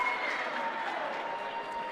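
Crowd applause rings out in a basketball gym after a made free throw, a brief, moderately loud burst of clapping that holds steady before tapering slightly.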